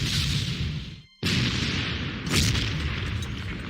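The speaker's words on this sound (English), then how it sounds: "I'm doing double artillery hits on it" Artillery hits in the strategy game Panzer Corps: a continuous heavy rumbling boom, a brief cut of silence, then another impact with a sharper crack over the low roar.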